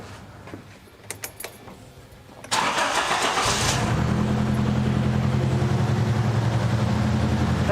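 A Nissan 200SX engine is cranked over and catches, then settles into a steady, fairly loud idle with a constant low drone close by. Some faint clicks and handling noises come before the start.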